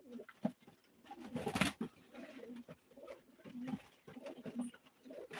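Pigeons coo repeatedly nearby in low, throaty bursts, with some rustling and faint background noise.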